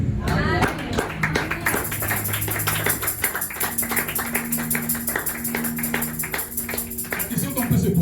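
In a church service, a congregation claps and taps rhythmically, with voices and cheering mixed in throughout, at moderate volume.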